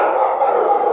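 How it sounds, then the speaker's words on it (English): A dog growls in one steady, close, fairly loud rumble that runs unbroken for the full second, with no other sounds. "the reason that he's growling is because she went after him"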